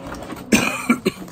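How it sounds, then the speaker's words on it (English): Three sharp coughs from a nearby person, a strong one followed by two shorter ones, over faint background noise. "Excuse my cough."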